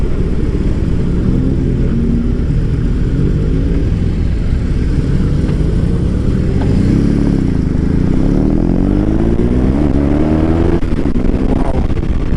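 BMW R18 B motorcycle being ridden, its deep engine rumble steady and loud throughout, with the pitch rising and falling as it accelerates mid-ride over continuous wind and road noise.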